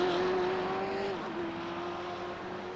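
A Radical race car drives a circuit in the SRA GTE-Radical Series, its engine a faint, distant steady drone that dips briefly as it brakes for a corner, then holds its pitch.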